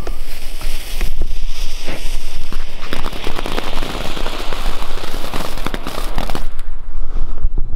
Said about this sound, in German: Dann haben wir den Flitze Feuerstein von Weco.